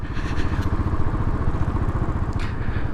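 Royal Enfield Classic 500 single-cylinder motorcycle cruising in top gear under 30 mph on a quiet British country road, a steady thudding engine beat heard up close from the rider's position.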